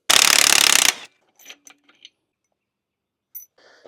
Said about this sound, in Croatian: I sad možemo očarafiti ova dva prednja, također 18 mm.